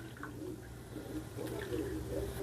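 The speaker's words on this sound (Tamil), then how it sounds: "இது கூட நம்ம எடுத்து வச்சுருக்கிற அந்த பருப்பு தண்ணியை மிக்ஸ் பண்ணிக்குவோம்." Dal water is poured into a pot of Mysore rasam, making a soft, steady trickle and splash that runs close by for a couple of seconds.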